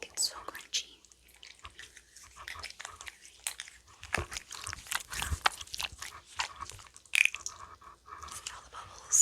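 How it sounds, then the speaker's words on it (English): Crunchy slime with foam cubes squished close to the microphone, giving small wet crackles and squelches in irregular bursts, with soft whispering heard at times. "This foam cubes make it so crunchy."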